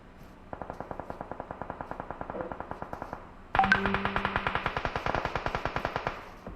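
Rapid automatic gunfire during a competitive esports match, two bursts of evenly spaced shots, the second louder and closer, firing at a fast steady rhythm.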